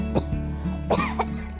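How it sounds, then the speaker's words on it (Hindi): Several short coughs, close and fairly soft, come in quick bursts with brief pauses between them. "खांसी"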